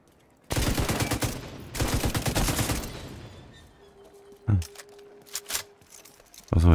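Bursts of automatic gunfire from the video game The Division 2, two sustained volleys up front followed by a few sharper single shots, loud and close with quieter game sounds between.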